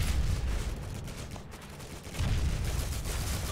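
Dense gunfire crackles in Call of Duty 2, a continuous noisy barrage of shots with a brief lull before it intensifies again, no talking.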